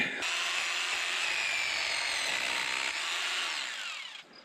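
A power drill grinds loudly and steadily into a granite boulder for several seconds, then winds down and stops.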